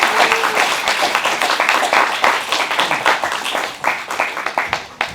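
Audience at a summer research colloquium applauding the presenters, a dense round of many hands clapping close by, sharp individual claps standing out as it tapers off toward the end.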